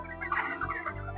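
Broiler chickens cluck and murmur together in a farm shed, a steady close chorus of overlapping soft calls with no talk over them.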